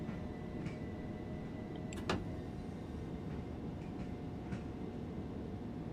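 Train running on the East Coastway route in a train simulator game: steady low rolling rumble with a faint tonal whine, punctuated by a few sharp clanks and clicks, even and moderately quiet, no voices.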